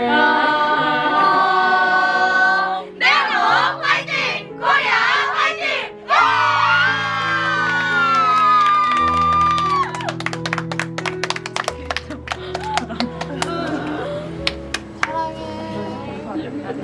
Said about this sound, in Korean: 그리고 마지막 니네 구호 외치고 마무리할게